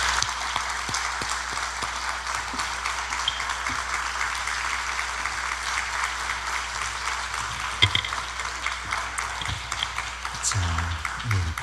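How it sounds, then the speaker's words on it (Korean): Steady welcoming applause from a large church congregation at a revival service, sustained and even throughout, with no talking over it. "우리 환영의 박수 하겠습니다."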